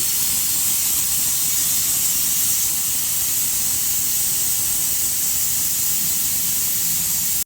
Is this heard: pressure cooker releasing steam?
yes